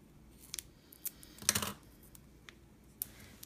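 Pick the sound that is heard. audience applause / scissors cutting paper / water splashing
scissors cutting paper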